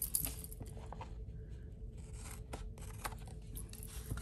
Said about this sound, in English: Then we're going to get our scissors